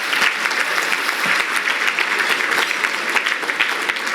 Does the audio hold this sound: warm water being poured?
no